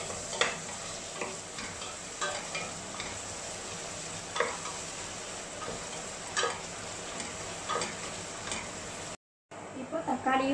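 Onion frying and being stirred in a pan for a Tamil vegetarian lunch: a steady soft sizzle with repeated light scraping strokes of a spoon throughout, briefly cut off near the end.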